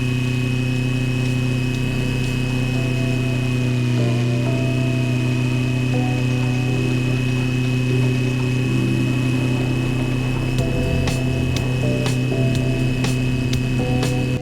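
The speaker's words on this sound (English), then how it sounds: "the microphone on the camera picks up the sound of the rotor spinning" Steady mechanical whine with strong sustained hum tones, a small RC helicopter rotor spinning continuously and loudly close by, picked up by an Insta360 GO Ultra camera mounted on it, with brief clicking ticks near the end.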